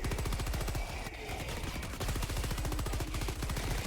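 Rapid automatic gunfire from a Helldivers 2 weapon set to its fastest fire rate, a dense unbroken stream of shots with a short dip in the middle, steady and fairly close.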